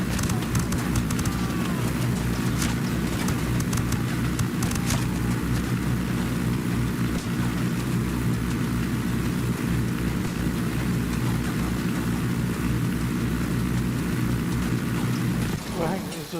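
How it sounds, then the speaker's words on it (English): A propeller airplane drones overhead in the Ghost Recon video game, a loud and steady engine roar that holds through the whole stretch and fades slightly near the end. "There's a plane"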